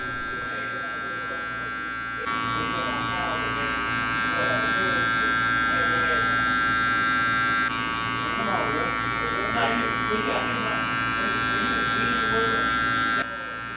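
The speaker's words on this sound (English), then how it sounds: "we're going in with our gold low pros clippers by Babyliss" Babyliss Gold Low Pro hair clippers buzz steadily and close up through a bald fade haircut, a constant bright electric hum that rises in level after the first couple of seconds and holds.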